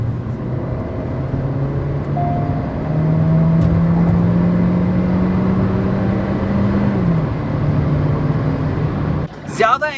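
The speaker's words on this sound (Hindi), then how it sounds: "Right now it is in 5th gear, dropping it to 4th, 3rd," Hyundai Creta 1.4L turbo-petrol engine with DCT after dropping from fifth to fourth and third gear, heard from the cabin: a steady droning hum that rises in pitch, then eases off as the revs settle.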